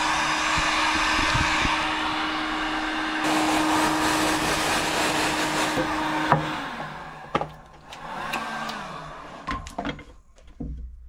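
A hair dryer blows with a steady whooshing hum for several seconds while heating parts for a Yamaha Aerox 70cc scooter engine, then cuts off, followed by scattered knocks and handling noises.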